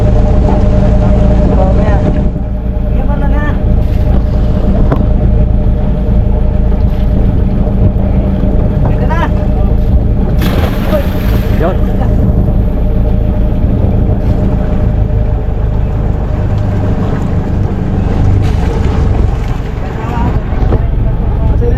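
A fishing boat engine at sea drones loud and steady with wind and water rush throughout, while voices talk over it intermittently.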